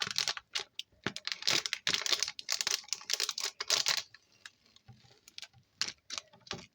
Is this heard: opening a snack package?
yes